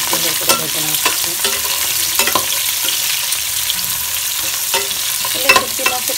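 Chopped onion and garlic frying in hot oil for a dried fish dish, a loud close sizzle broken by frequent scraping and clinking of a stirring spoon, with no talk.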